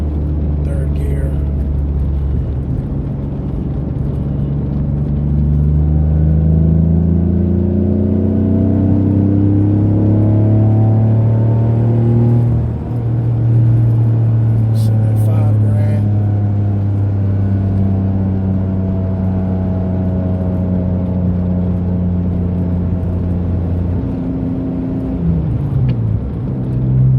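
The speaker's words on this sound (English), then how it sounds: "Engine response is way better." A Mitsubishi 3000GT with a SOHC engine and aftermarket exhaust accelerates in third gear on a road, its engine note climbing steadily and loudly from inside the car, then easing off near the end.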